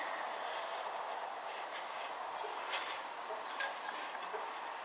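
A toy DB gas turbine passenger train with power cars at both ends runs along its track, giving a steady, light mechanical whir and rattle with faint clicks, close and continuous, with no talk.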